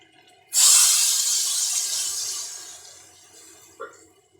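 Water pours into a pot of chicken pulao with a sudden loud hissing splash that gradually fades as the stream continues, followed by a brief clink near the end.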